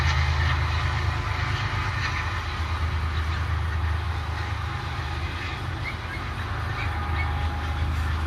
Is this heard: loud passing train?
yes